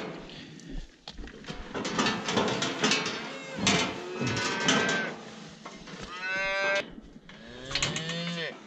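A nurse cow moos loudly and repeatedly at close range on a farm where calves are being brought to suckle, with long drawn-out calls and brief pauses and some faint handling noises.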